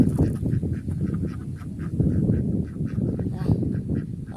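Mallard ducks call repeatedly in a noisy, continuous chorus of quacks and honks, fairly close.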